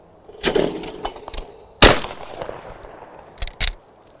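Shots from a newly bought hunting shotgun, several sharp cracks spread irregularly over a few seconds, with the loudest one midway, outdoors and fairly close, with no talking.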